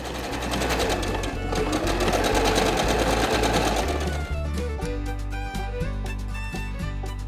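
A sewing machine runs steadily, stitching a belt from fabric that is hard to sew. The close, continuous mechanical whir has rapid needle ticks, and it shifts slightly in pace partway through with no talking.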